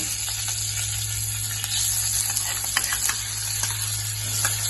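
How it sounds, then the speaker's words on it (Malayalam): Garlic and shallot paste fries in a pan with a steady, close sizzle, with occasional stirring scrapes and light clinks on top of the continuous hiss. "കൊച്ചുള്ളിൻ്റെ വെളുത്തുള്ളിൻ്റെ പേസ്റ്റ് കേട്ടോ മൂപ്പിക്കാൻ ഇടുന്നത്"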